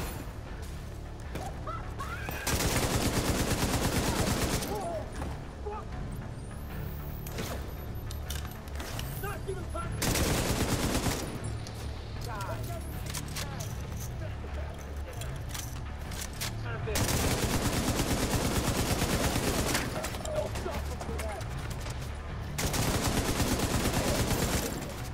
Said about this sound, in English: he's shooting at me, that's for sure